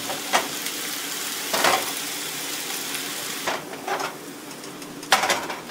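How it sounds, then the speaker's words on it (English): Noodles frying in cooking oil in a pan at a Chinese restaurant, a steady broadband sizzle with several louder bursts of crackle and stirring scrapes. "Cook the noodles to the amount of crispiness that you like."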